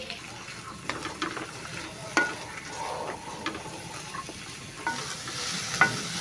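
Vegetables and capsicum frying for a samosa filling, with a quiet steady sizzle and intermittent clicks and scrapes of stirring in the pan.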